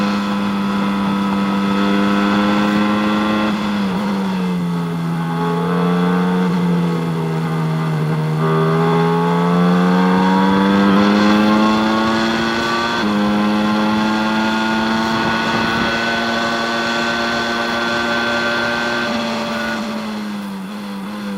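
Formula 1 race cars from the 1993 season race around a track, their loud, high-pitched engine whine rising and falling steadily as they accelerate and lift through corners, heard close and continuously throughout.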